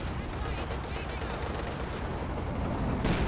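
MG42 machine gun fire in a Company of Heroes 2 battle, a dense, continuous rattle of bursts blending with other combat noise, with a commentator's voice running underneath throughout.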